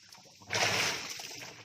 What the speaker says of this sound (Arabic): وده كمان لما بتبقى مستوى المية عالي هنا بيطلع شلال.